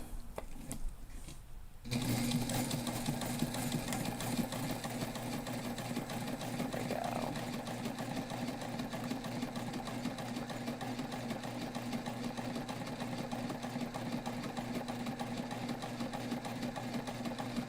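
A sewing machine stitches a backpack, starting after a short pause and then running at a steady, even, slow pace, close and continuous with no talk.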